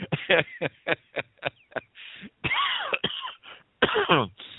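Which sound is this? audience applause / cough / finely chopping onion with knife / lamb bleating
cough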